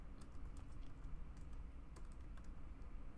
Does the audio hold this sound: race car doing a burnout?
no